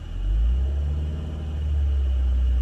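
A vehicle engine idles with a deep, steady low rumble, swelling slightly as a little gas is given, close and continuous with no talk.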